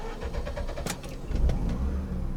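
A warm Mazda RX8 rotary engine cranks and catches into a rough, low idle, the starter whir giving way to an uneven engine rumble close by.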